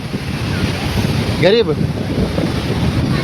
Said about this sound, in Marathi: आता जाऊन एकदम पाणी एकदम जोरात लाटा यायला चालू झालं